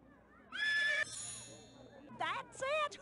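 A horse whinnies loudly twice in the game Barney Goes to the Circus, high shrill neighs with a short pause between, over faint background hum.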